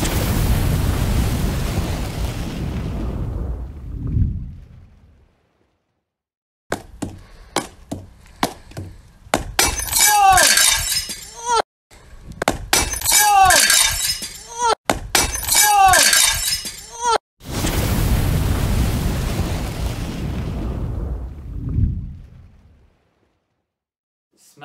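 Shed window glass is smashed in a run of sharp crashing and shattering bursts with splintering knocks, set between longer stretches of loud rough noise.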